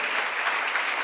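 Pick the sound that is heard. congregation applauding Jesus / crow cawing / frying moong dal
congregation applauding Jesus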